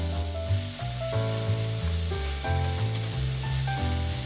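Ground meat sizzles and crackles steadily in a hot pan with garlic and ginger for Taiwanese-style keema curry, close up, with gentle melodic music playing underneath.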